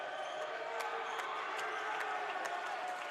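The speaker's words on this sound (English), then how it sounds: "Student section giving a round of applause." Student section applauding at a men's college basketball game, a steady wash of crowd clapping and murmur heard at a distance in the gym, faint but continuous with a few sharper claps standing out.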